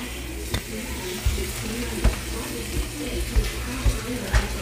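Potatoes frying in a pan, sizzling steadily while a utensil stirs and scrapes them in a regular rhythm of soft knocks.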